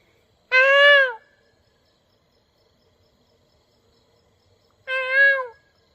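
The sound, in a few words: peacock calling in the morning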